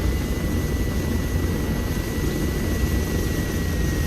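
Helicopter in an Arma 3 combat mission near an airfield, a continuous, even rotor and turbine roar held at steady loudness with no talk over it.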